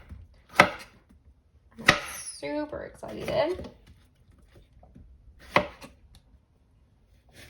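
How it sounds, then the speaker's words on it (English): A knife cuts zucchini chunks in half on a cutting board in a home kitchen: three sharp, close chops spaced apart, with a person talking softly between them. "I'm just going to cut some of the bigger chunks of zucchini in half"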